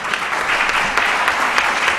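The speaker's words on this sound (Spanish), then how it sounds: "Un aplauso para él," Audience applause for a speaker at a Spanish-language talk on theology, a steady dense wash of clapping from a crowd, fairly close and sustained throughout without talk.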